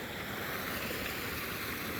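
Water pouring steadily out of a seep in winter, a constant broadband rush and gurgle like a small stream, close and unbroken for the whole stretch, with no voices.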